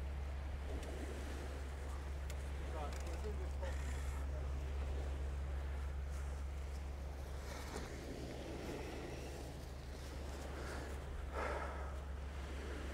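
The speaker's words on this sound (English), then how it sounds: "that wind's pretty rough" Strong wind gusts across a sea-wall beach on the UK east coast, a constant low roar buffeting loudly with faint surf behind it.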